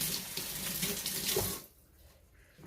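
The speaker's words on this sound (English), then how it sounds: "you want to rinse your hands. Get all that oil off there." Hands rinsed under a running kitchen tap to wash off oil: a steady close rush of water for about a second and a half, then it stops abruptly, leaving quiet room tone.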